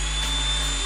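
A Black & Decker Gopak cordless drill runs in hammer mode, giving a steady, close, continuous motor whine with an even buzzing rattle and no pauses.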